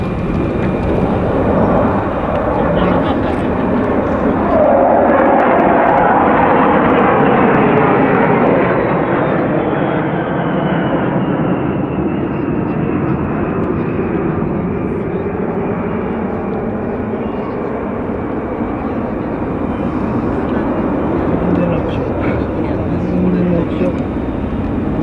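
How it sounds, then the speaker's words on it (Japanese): Military jets of Carrier Air Wing Five at Iwakuni air base, landing or doing touch-and-go passes during an air show rehearsal flyover: a loud, sustained engine roar that swells and slowly shifts pitch as an aircraft passes, with people talking nearby. "着陸だ"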